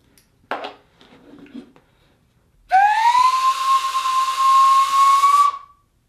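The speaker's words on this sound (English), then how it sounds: "You can simply let the balloon blow air into a musical instrument," A whistle blown by gas from a balloon of sulfur hexafluoride gives a loud, steady, breathy tone lasting about three seconds, held nearly level with a slight upward drift before it cuts off, after some faint rustling.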